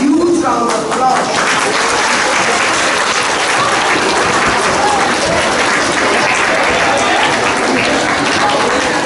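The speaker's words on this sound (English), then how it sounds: "They deserve a huge round of applause." An audience at a middle-school inter-class elocution event at St Joseph's College, Nainital applauds Class 8B, steady loud clapping filling the hall throughout with a dense crowd wash.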